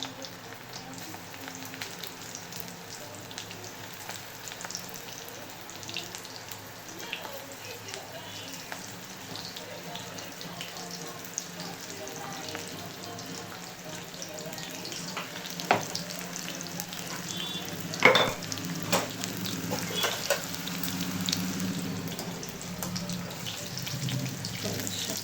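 Pakoda fritters in hot oil give a continuous low frying sizzle with scattered crackles and pops, fairly quiet, with occasional faint background voices.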